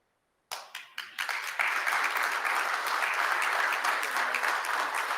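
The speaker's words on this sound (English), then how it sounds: "If we could have one more round of applause" Applause from the audience at a school board of education meeting, opening with a few scattered claps before swelling into a steady, dense round of clapping that carries on to the end.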